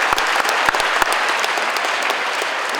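Sustained applause from a crowd honouring athletes from Akhalkalaki, dense and steady for the whole span with a few sharper claps standing out near the start.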